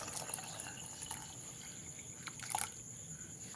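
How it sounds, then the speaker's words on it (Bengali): Reserved cooking water poured into mashed masoor dal makes a soft, brief trickle and splash at close range, with no one speaking. "এবারে আমি এখানে দিয়ে দেবো তুলে রাখা সেই জলটা"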